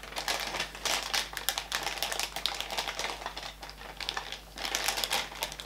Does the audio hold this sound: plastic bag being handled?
yes